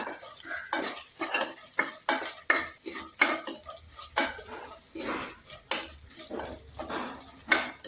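Coconut pieces are stirred in a pan as they lightly fry, the utensil scraping in a quick, repeated rhythm over a low sizzle. The sound is close and clear, with no talking.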